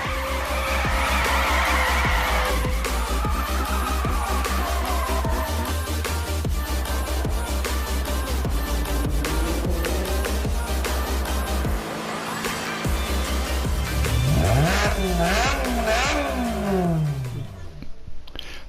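A 1980s Formula 1 car in Project CARS screams along at high revs, its engine note rising and falling through gear changes with tire squeal and skids, loud and constant throughout.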